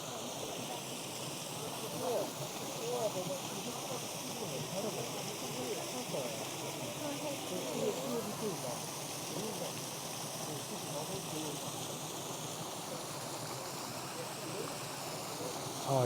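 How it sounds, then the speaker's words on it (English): A small waterfall splashes steadily into the Emperor Yu pond at the Longmen Grottoes, a soft, continuous rush of falling water with faint voices in the background. "Small waterfall of some sort."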